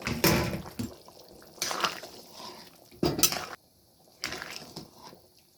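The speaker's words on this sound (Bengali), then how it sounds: "এখন দিয়ে দিচ্ছি ভেজে রাখা সবজিটা, সমস্ত সবজি দিয়ে দিলাম।" Fried mixed vegetables tipped into a pot of vegetarian khichuri with hot water, giving several short bursts of clattering, sloshing and scraping from pot and spoon, separated by quiet pauses.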